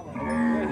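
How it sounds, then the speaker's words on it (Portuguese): A single short, close moo from a cow at a cattle fair where calves are being sold, a brief low bellow with no talk over it. "Vaca topada aqui, ó."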